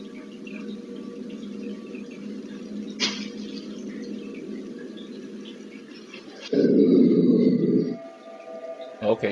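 A large dog indoors at night, picked up by a home security camera, giving a steady low rumbling growl that swells into a louder burst of whining and whimpering before settling again.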